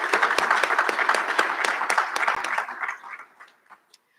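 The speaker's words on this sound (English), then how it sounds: "Let's give them another round of applause" An audience at a college recognition ceremony applauds graduates' families and supporters, a full burst of clapping that thins out and fades to a few scattered last claps before silence.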